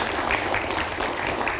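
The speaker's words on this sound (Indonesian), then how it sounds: "Boleh kita berikan tepuk tangan terlebih dahulu." Audience applause at a studio broadcast event, a steady dense patter of clapping hands filling the room throughout, with no voices over it.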